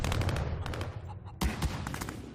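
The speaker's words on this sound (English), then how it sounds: "I just got blown away by the shotguns" Shotgun blasts ring out in a multiplayer video game, a dense flurry of loud booming reports with a fresh heavy burst midway, mixed with game noise.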